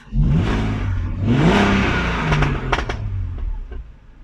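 An engine fitted with a cone air filter revs up twice in quick succession, heard with the car windows open, the pitch rising and dropping, then eases back to a low idle.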